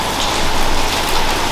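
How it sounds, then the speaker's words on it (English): Pouring rain falls outdoors at an abandoned factory in East Anglia, a loud, dense and steady hiss of drops close by. "It's pouring with rain"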